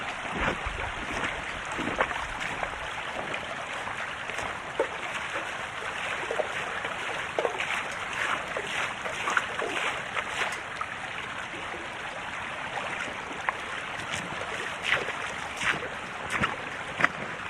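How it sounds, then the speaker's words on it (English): Steady flowing creek water with gentle splashing and trickling, continuous and fairly close, with occasional sharper splashes as something is rinsed in the stream. "I'm going to get in the creek here and rinse this off"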